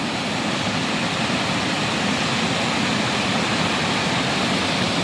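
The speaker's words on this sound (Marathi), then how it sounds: "हा बघा नदीला पाणी किती आहे बघा" Steady, dense rushing of a swollen river in the Konkan, flowing loud and unbroken throughout with no voices.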